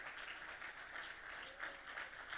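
A church congregation clapping for the Lord during a sermon by Pastor Carlos Peña, a faint, steady wash of applause heard from a distance.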